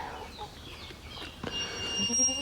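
Chickens in a backyard chicken area giving soft, faint clucks and a brief squawk in the background of a quiet outdoor scene.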